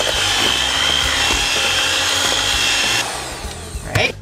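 An electric hand mixer whirs steadily through cookie batter with eggs and vanilla extract, its motor drone continuous and close before easing off near the end, followed by a few clattering knocks.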